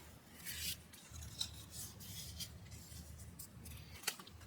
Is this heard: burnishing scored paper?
yes